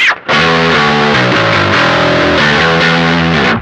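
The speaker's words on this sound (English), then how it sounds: "crank the drive all the way up and put the tone at noon to introduce more saturation" Electric guitar through a Harby Pedals Noble Tone overdrive with drive fully up and tone at noon holds thick, heavily saturated, buzzing sustained chords that shift pitch slightly, loud and dense with no speech.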